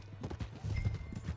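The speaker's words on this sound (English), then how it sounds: "Hey, that's my horse!" Horse hooves clip-clop in Red Dead Redemption 2, a quick run of close, hollow thuds on hard ground with a brief whinny mixed in.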